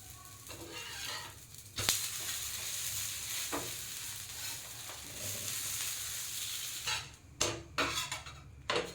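Ghee melting in a pan on the stove for chutney powder, with a steady sizzle, a few sharp clinks of a utensil against the pan and light stirring, close by and with no voices.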